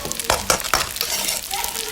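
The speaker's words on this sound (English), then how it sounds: "So all I'm doing is mixing it and ensuring that the spaghetti gets a little frying and that red color from the tomato paste." Haitian spaghetti coated in tomato paste being stirred and fried in a pan, with steady sizzling under a run of quick scraping stirs and a few soft clinks, close and fairly loud.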